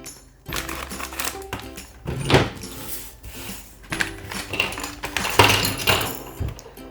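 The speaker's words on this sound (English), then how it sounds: "So use our scissors again." Scissors snipping open a Playmobil blind bag up close, with a few sharp clicks and plastic crinkles, rustles and small taps in irregular bursts.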